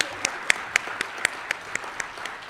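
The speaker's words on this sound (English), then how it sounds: "can we also give a round of applause for engineers who will come, show up, and speak?" A small conference audience claps steadily, about four claps per second in a clear, rhythmic, fairly sparse pattern that sounds like a modest group clapping in a hall.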